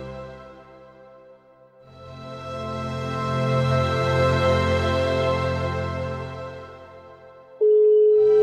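A mobile phone line that cannot be reached plays a steady tonal signal that swells and then holds, ending in a sharper, louder beep, with no talking.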